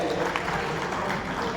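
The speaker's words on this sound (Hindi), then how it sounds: "जोरदार ताली बजाकर के इनका स्वागत करें।" An audience at a political rally claps steadily to welcome guests, producing a dense, even patter of applause with some speech mixed in.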